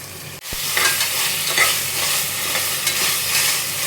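A handful of mint goes into hot oil in a pan while prawn biryani is being cooked. A loud, close sizzle flares up and keeps crackling, with stirring scrapes and no speech.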